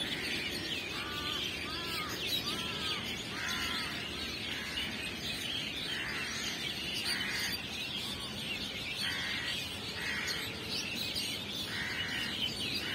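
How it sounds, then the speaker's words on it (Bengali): Birds chirping on a foggy winter morning in a village, repeated short tweets and calls at moderate distance over a soft steady background hum. "কুয়াশাঘন এই সকালে পাখির কিচিরমিচির ডাক।"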